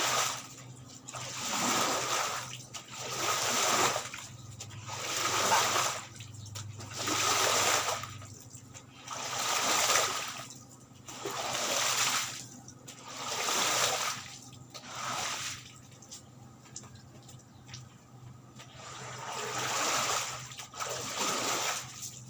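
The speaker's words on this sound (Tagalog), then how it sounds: "Dito medyo mataas kaya hindi siya dumidiretso papunta doon ang tubig." Floodwater flows and splashes unevenly across a floor, arriving in repeated surges every couple of seconds, each a bright rushing splash that swells and recedes over a low steady hum.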